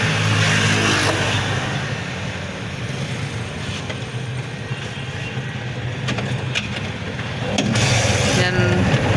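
A motor tricycle's engine runs nearby with a steady low rumble and a mechanical drone, swelling slightly at the start and end, amid faint background voices.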